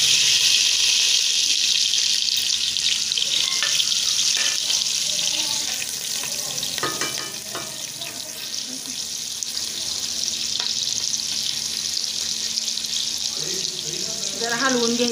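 Cumin seeds and chili pieces frying in ghee for jeera rice, a steady loud hiss and crackle throughout with brief sharper pops, a voice speaking now and then over it.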